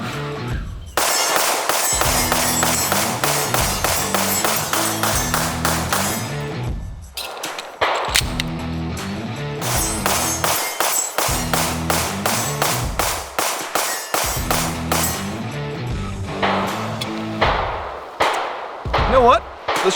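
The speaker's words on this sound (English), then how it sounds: "all new CZ P10C ported. See it right there? Let's fire some rounds." Rapid strings of sharp, loud gunshots from a new CZ P-10C ported pistol, fired in quick bursts with short pauses between groups, close and dominant throughout.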